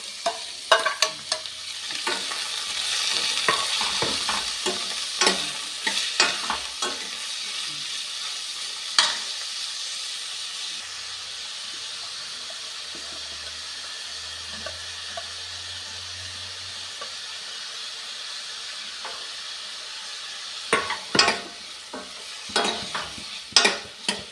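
Chopped ginger and onion frying in a pan for a cauliflower sabzi, hissing and sizzling steadily while a spatula stirs in irregular close clatters, the frying fading to a quieter hiss midway before stirring picks up again.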